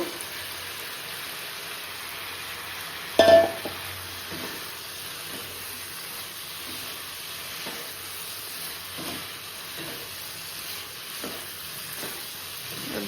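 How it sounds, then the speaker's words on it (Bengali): Fried vegetables tipped into oily spice masala and sautéed for a mixed vegetable curry, a soft, even sizzle with one sharp clatter as they drop in, then gentle periodic stirring scrapes. "দেখো তেল ছেড়ে দিয়েছে মশলা দিয়ে, এবার এই ভেজে রাখা সবজিগুলোকে দিয়ে দেব"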